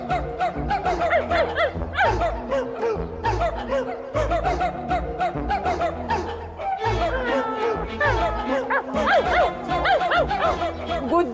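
A cartoon character imitates a dog, barking and yapping in rapid bursts amid lively chatter and laughter, loud and close.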